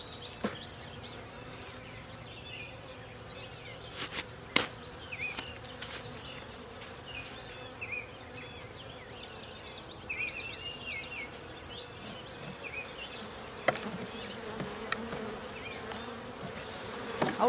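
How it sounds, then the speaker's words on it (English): Honey bees from an opened backyard hive buzz loudly and steadily close by, a dense drone with a few sharp knocks and clicks from handling the hive. "Got a bee getting in my glove."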